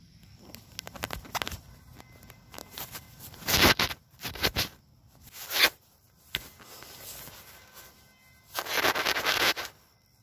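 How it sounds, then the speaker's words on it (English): Pruning shears snip spent flowers off a 'Glass Slippers' butterfly bush in an autumn garden, giving several short crisp clicks and rustling bursts of foliage spaced apart, fairly close and with no talking. "so I'll just cut that off too."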